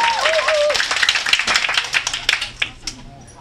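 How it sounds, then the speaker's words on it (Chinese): Audience claps for a cooking demonstration of red-braised pork made in a gold pot; a brief voice opens, then scattered clapping builds and trails off into a few separate, fading claps. "来，掌声，应该鼓一下掌哦。"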